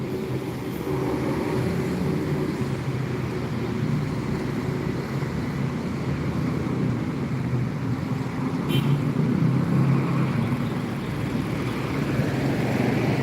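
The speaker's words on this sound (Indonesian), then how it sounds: "Ada bus ANS melintas di depan terminal, tidak masuk terminal." ANS bus passing in front of a terminal, a steady, moderately loud engine rumble and road noise sustained throughout without talking.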